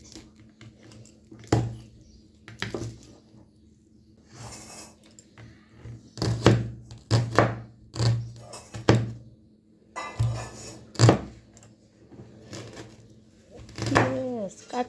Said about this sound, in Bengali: এখানে দেখেন পেঁয়াজ আর কাঁচা মরিচ নিয়ে নিছি, এটা কেটে নেব।